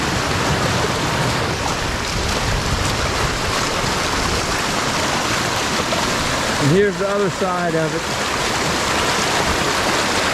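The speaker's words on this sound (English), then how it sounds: "You can tell it's a lot of water coming out of there." Storm water gushes from a 30-inch culvert after Hurricane Floyd, a loud, steady rushing roar close by; someone speaks briefly over it near the end.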